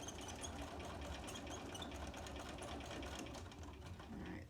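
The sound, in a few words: sewing machine tacking down a quilt block seam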